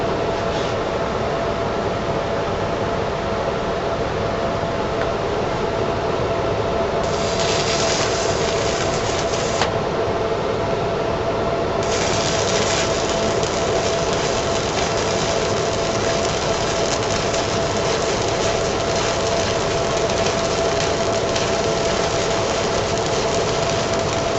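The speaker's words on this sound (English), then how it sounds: "I'll just run a little bit of a groove weld here for you to look at" A groove weld run on steel plate gives a continuous, loud, close crackling hiss that holds steady from start to finish with a faint underlying hum and no talking.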